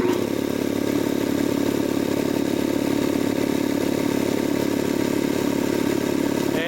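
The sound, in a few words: Jenny air compressor running under load, building pressure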